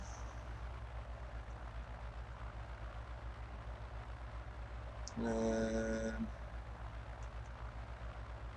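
A light aircraft's propeller engine runs at a steady low drone heard from inside the cabin, with a brief tonal beep or radio tone rising over it and a voice speaking.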